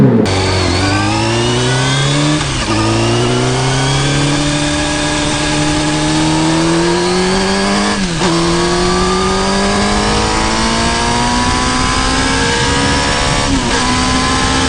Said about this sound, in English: a bike that sounds like a V12 Ferrari that eats racetracks for lunch